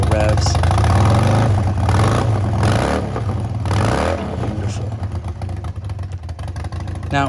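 A motorcycle engine idles loudly, then revs up a few times in quick bursts before settling back into a rough, rumbling idle.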